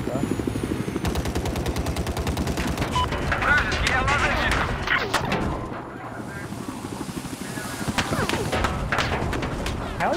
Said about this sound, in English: Pretty sure that's just a secondary gun on that thing shooting at us.